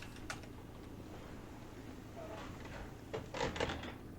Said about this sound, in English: doors shut rather quick